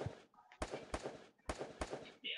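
Gunfire in an online shooter video game, several sharp, loud shots fired in two quick clusters of three, each crack ringing briefly against quieter game sounds.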